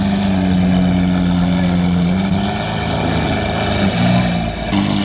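A loud Nissan Skyline GTR at a car meet idles and burbles nearby, its deep engine note wavering slightly in pitch with no clear revving.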